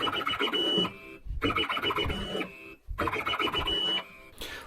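Stepper motors driving a mini metal lathe through a lost-steps test, giving close, loud bursts of buzzing whine about a second long with brief pauses between moves.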